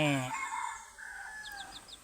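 A hen calls out with a short, strained crowing or clucking burst, close by, followed by quieter bird noises in the background.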